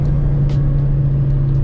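Car engine fitted with an aftermarket ACE CS400 EL header idles with a steady, loud low drone and a smooth, even hum throughout, heard close and alone with no talk.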